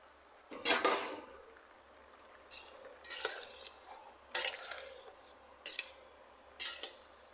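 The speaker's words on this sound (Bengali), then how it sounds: "এবার থালা খুলে দেখে নেব বন্ধুরা" Metal plate lid lifted and set down on a cooking pot of tomato chana dal, giving several separate clinks and scrapes of metal on metal in a quiet kitchen, with no talking.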